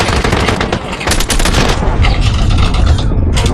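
Rapid automatic gunfire from a multiplayer battle royale shooter game, loud and dense with overlapping bursts throughout, sustained close shooting with brief gaps.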